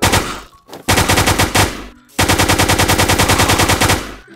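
Rapid automatic gunfire from a Minecraft zombie-shooter server, loud and close, in two long bursts of evenly spaced shots separated by a short gap.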